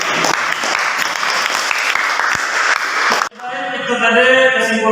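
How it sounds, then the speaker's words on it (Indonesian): Students in a classroom applaud, a dense burst of clapping for about three seconds, after which the clapping cuts off and a voice begins speaking. "mari kita berikan aplaus yang meriah"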